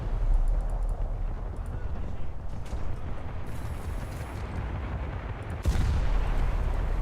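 Italian naval cannons fire in War Thunder, booming over a constant low rumble, with a heavy, close shot near the end followed by a rolling echo.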